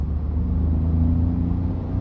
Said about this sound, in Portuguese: Ó, as notas altas do motor aí.